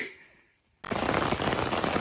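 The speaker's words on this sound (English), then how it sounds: "It took a break from raining and now it's just absolutely pouring." Heavy rain pours suddenly and loudly outdoors, a dense steady roar that starts abruptly after a brief quiet moment.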